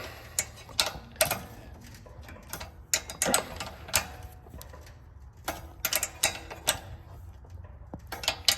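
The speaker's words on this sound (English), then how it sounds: "we'll grab a wrench here and we tighten it up" A wrench ratcheting and clicking as it tightens the governor linkage on a Craftsman 179cc OHV snowblower, close, irregular metallic ticks in short bursts.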